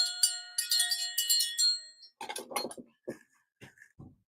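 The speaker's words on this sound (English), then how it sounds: "I had a little bell." A small hand bell rings in several quick jingling bursts, clear and close, followed by a person talking.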